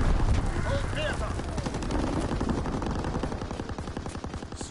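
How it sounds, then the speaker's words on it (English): Call of Duty WW2 gunfire from a strafing run: loud, rapid machine-gun bursts rattle continuously in a fast, even rhythm, with a voice also heard in the clip. "That looked like a whole bunch of bullets coming at me."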